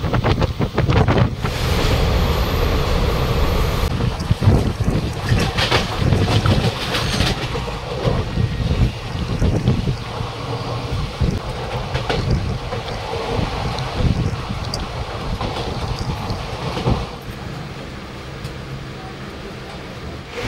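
The Black Diamond Express runs from Kumardubi toward Dhanbad, heard from on board as a loud, continuous rumble and rattle with wind roar and scattered clanks throughout.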